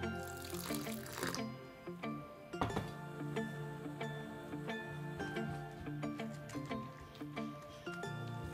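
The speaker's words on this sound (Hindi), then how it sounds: "पानी आप थोड़ा थोड़ा करके डालें।" Water is poured little by little into bread pakora batter in a home kitchen, with running-water splashes and clinks of a bowl or utensil coming in uneven bursts throughout.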